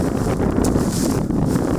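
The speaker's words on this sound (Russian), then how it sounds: "Я, конечно, извините, что ветер дует." Wind buffets the microphone in a steady rushing roar, low and rumbling throughout.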